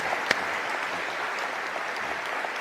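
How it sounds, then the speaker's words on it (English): Audience applause at a comedy appearance with Ricky Gervais and Louis C.K. in New York, a steady wash of many hands clapping at moderate distance, even and sustained for a few seconds with one sharp clap standing out early. "That deserves a round of applause."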